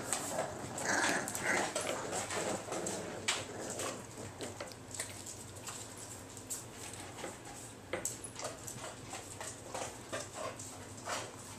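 Puppies whimper and yap in short, close bursts, with no people talking.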